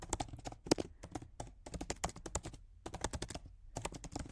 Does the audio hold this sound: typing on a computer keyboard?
yes